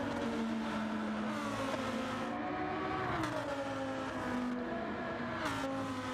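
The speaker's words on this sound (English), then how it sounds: "So we just listen to these Lamborghinis blaring around." Lamborghini race cars in a sim racing game roar around a track, a continuous loud engine drone with rising and falling pitch as cars rev and pass, no talking.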